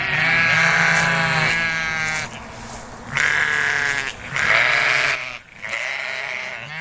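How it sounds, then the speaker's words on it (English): Sheep on a farm bleat loudly and close by, a few long, wavering calls in quick succession with short gaps between them, and no talking. "Sheep aren't the quietest of animals."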